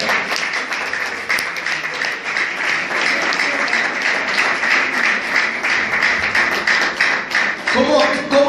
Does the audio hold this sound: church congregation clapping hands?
yes